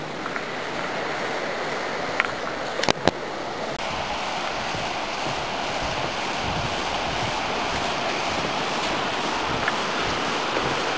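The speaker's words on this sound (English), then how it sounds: "I believe this is the Toxaway River." Steady broadband rush of the Toxaway River flowing near a campsite in Gorges State Park, continuous and fairly loud throughout with a couple of brief knocks partway through.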